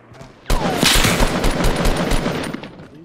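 An automatic sniper rifle in a video game fires a rapid, loud burst of shots that starts abruptly and carries on steadily for about two and a half seconds, close and dominant.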